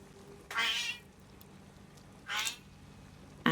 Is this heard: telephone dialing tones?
no